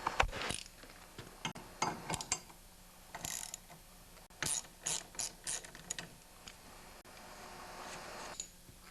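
A ratchet wrench works loose the pulley bolt on a snowblower's auger drive, the impeller held by a block of wood; quick clicking bursts of the pawl come in short spaced runs, close and fairly quiet, with no talking.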